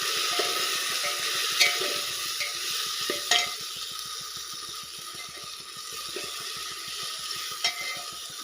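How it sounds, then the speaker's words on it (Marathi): Khichdi being stirred in a cooking pot, with a steady sizzle underneath and a few sharp scraping knocks of the spoon against the pot. "हे पूर्णपणे टाकून मी परत आता हलवून घेणार आहे"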